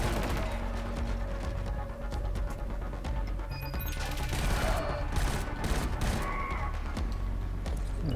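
Sustained machine gun fire and bursts of shots fill this Killzone Shadow Fall firefight, dense and loud with crashes and booms layered over continuous combat noise.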